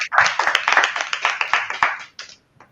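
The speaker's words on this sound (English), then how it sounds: "A little round of applause." Small group clapping at a blockchain mainnet launch party, close and fairly loud, with distinct individual hand claps in an uneven rhythm that taper off after about two seconds.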